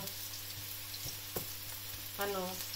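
Onions fry in hot coconut oil for mung bean soup, giving a steady, fine crackling sizzle with a few soft utensil taps, and a brief voice breaks in near the end.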